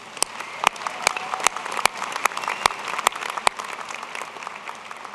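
A commencement crowd at the 2010 University of Idaho winter ceremony applauds the wind ensemble and anthem vocalist; dense clapping fills a large hall, punctuated by sharp, loud claps from someone close by at a regular beat.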